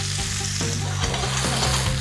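Chanterelle mushrooms frying in a hot pan, a loud, continuous sizzle with crackling spatter and some stirring, and no one speaking.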